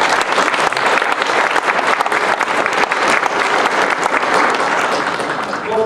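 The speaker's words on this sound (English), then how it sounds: "Let's see you guys big round of applause" A convention crowd at a comic con panel applauds loudly and steadily for about six seconds, a dense wash of clapping with no pause that eases only slightly at the very end.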